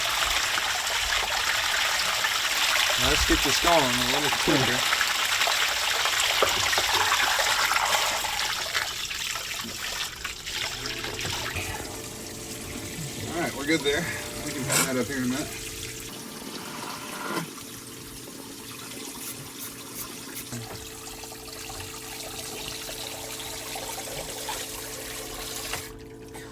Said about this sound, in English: That's a lot of water.